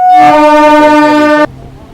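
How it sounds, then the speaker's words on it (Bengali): A Kharagpur–Digha local train pulling out of Ramnagar station gives one loud, sustained chord-like horn blast that cuts off sharply, leaving low rumbling. "রামনগর থেকে আমাদের ট্রেন ছেড়ে দিয়েছে।"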